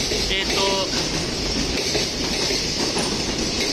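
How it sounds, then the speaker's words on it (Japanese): A freight train rumbles steadily past close by at Kyoto Station, a continuous loud roar of wheels on rails with brief metallic squeals near the start. "今貨物列車が通ってます"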